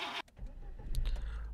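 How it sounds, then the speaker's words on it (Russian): A 2018 Škoda Karoq engine in the City Car Driving video game cranks and turns over, settling into a low, steady rumble that grows slightly louder, preceded by a brief higher-pitched whir. "Хорошо, включаем двигатель,"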